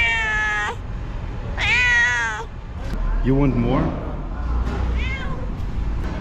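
A cat meows loudly several times while being fed scraps of camel head at a traditional feast in Madinah, Saudi Arabia, its drawn-out cries close to the microphone, with someone speaking briefly between them.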